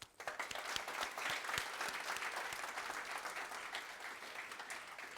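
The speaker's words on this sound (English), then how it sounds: "I'd like you all to join me with a round of applause for the Flat6Labs Ignite Abu Dhabi" An audience at a startup demo day in Abu Dhabi breaks into a round of applause for a cohort of founders. Sharp individual claps come first, then swell into a sustained, fairly distant patter that slowly thins out.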